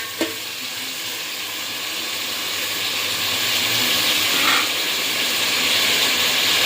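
Onions fry in a pan until they turn light brown, a loud, continuous sizzle with a brief clink near the start and no voices.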